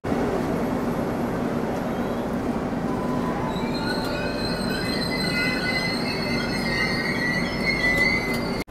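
Wheels of the 15722 Pahariya Express squeal loudly and steadily on the rails over a constant heavy rumble of the moving coaches, heard from inside the train on its Darjeeling to Digha run.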